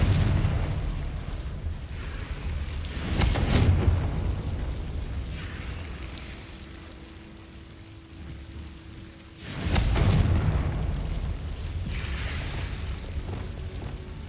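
Confringo fire spell exploding in the video game Hogwarts Legacy, two loud booming blasts about six seconds apart, each with a crackling rumbling tail, over a steady low game ambience.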